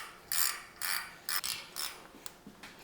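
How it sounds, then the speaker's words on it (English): A ratcheting wrench tightening a bolt on a custom off-road steering setup, several short clicking ratchet strokes in an uneven rhythm, close and fairly quiet, no talking. "So I want to feel it get tighter with the wrench."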